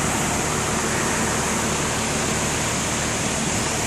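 A swollen creek rushing during a Texas storm, a loud, dense, unbroken roar of fast-flowing water filling the sound close by, with no other sounds standing out.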